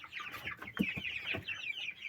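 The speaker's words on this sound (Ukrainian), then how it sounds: "Вони вже пищать хочуть." Quail chicks peep and cluck softly at close range, a busy cluster of short high chirps with a few lower clucks mixed in.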